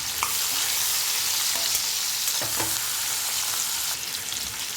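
Onions frying with tomato, curry leaves and coriander, a steady hiss of sizzling oil with occasional soft stirring scrapes, close and continuous with no talk.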